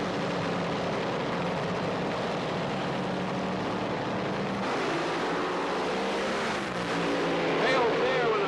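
Drag racing cars at the 1978 NHRA Gatornationals roaring loudly off the starting line, a dense sustained engine blast with a rising whine near the end, under a commentator's voice.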